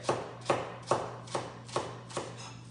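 Knife chopping ginger on a cutting board, six evenly spaced crisp strokes about half a second apart, close and clear with no talk.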